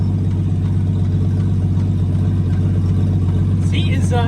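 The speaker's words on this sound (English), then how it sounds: "Don't mind the knocking in the rear." An old Studebaker rolls along with its engine droning steadily and faint irregular knocks from the rear, while a voice talks over it near the end.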